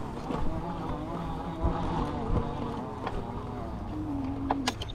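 A rear hub motor on an e-bike whines steadily as it hauls the unpedaled bike up a steep hill, mixed with wind rush and a rising motor tone near the end, moderately loud and close.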